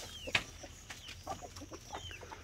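A brooding Rhode Island Red hen clucks in short, soft bursts with one sharper squawk near the start, faint and close amid quiet farmyard background.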